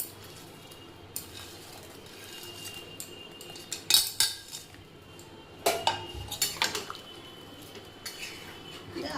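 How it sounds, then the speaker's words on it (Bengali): Chana dal koftas dropped into a pot of potato curry, with sporadic metal clinks and scraping of a spoon against the pot in short clustered bursts over a quiet simmer. "এবার আমি বড়াগুলো সব দিয়ে দেব।"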